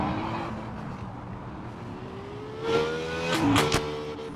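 A car pulls away from a workshop, its engine rising in pitch as it revs, starting faint and growing louder and closer over several seconds with no talk.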